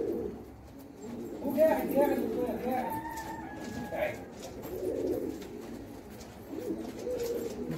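Pigeons coo in low, repeated murmurs under a man's speech, with bird chatter mixed in, recorded outdoors during bird catching with a hook.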